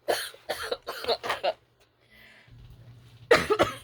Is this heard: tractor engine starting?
no